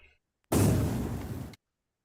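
A single explosion sound effect in the Jumanji: All Blown Up board game, a loud, close burst of broad noise lasting about a second and then cutting off abruptly, with no voices over it.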